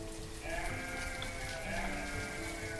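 Sheep bleat in the video game Banished, long wavering bleats rising over a steady bed of game music and ambience, close and clear, with no talk.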